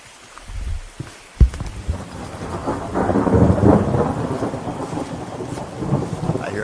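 A sharp crack of nearby thunder gives way to a long low rumble, with rain falling steadily throughout a summer storm outdoors.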